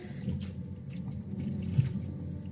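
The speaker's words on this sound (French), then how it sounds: "Je mets un peu d'eau dedans." Water runs and trickles into a gold panning pan set over a sink, a steady low pour with faint splashing, close by and moderately quiet, with no talk.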